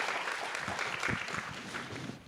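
Audience applause at a public health panel discussion on outbreak preparedness: a steady, fairly soft wash of many hands clapping for a little over two seconds, with no speech over it.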